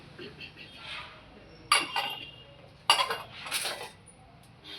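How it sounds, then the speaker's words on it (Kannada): A metal tadka ladle clinks and clatters in a few distinct bursts, with lighter handling noises between them, close and moderately loud. "ಒಗ್ಗರಣೆ ಮಾಡೋಕ್ಕೆ ತಡ್ಕ ಲ್ಯಾಡ್ಲ್ ಅಂತ ಹೇಳ್ತಾರೆ ಇದನ್ನ."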